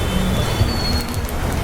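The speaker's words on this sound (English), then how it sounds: "This is not the heavy rain. This is just a normal rain." Ordinary, moderate rain falls on a street in Mumbai, a steady dense hiss of drops spattering the pavement, close and continuous with no pauses.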